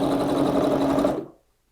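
A sewing machine runs steadily while stitching a tote bag, a close, even mechanical whir that stops abruptly near the end, followed by a small click.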